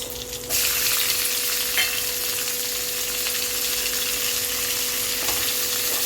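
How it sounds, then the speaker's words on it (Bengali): Onion frying lightly in oil in a pan, a constant close, loud sizzle that swells after a brief quieter start, with faint stirring scrapes and no talking. "পেঁয়াজটাকে হালকা ভাজা করে নেব"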